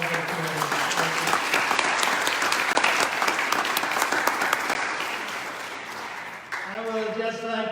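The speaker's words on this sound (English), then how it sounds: "I'd like you to give them a real round of applause." A crowd at a Navratri celebration at a Hindu temple in Pickering, Ontario, applauds the Panditjis with steady clapping that tapers off. A voice then begins speaking over a microphone.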